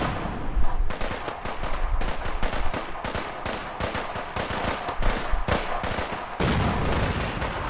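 Fallout 4 combat with rapid gunfire and booming artillery, dense overlapping bursts of shots and blasts continuing without pause, loud and close.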